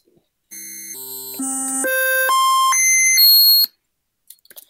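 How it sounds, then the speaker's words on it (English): An NES triangle wave channel steps through its octaves, playing a chiptune tone that jumps upward in about seven sustained, evenly spaced steps, then stops, leaving a few faint clicks. "So that's just going through like the different octaves of the triangle"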